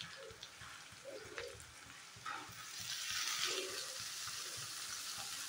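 Potatoes fry in a pan with a soft, steady sizzle that swells slightly louder midway, punctuated by faint scraping stirs, quiet and close with no talk.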